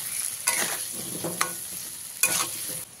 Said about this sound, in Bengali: দিয়ে এবারে খুব ভালো করে লাল লাল করে ভেজে নিতে হবে